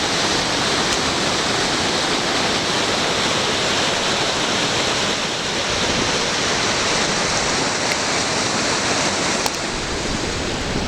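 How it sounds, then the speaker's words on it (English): Fast-flowing river water rushes over stones beneath a viaduct, a loud, continuous broadband roar held close and steady throughout. "Oh wow, look how fast the water is."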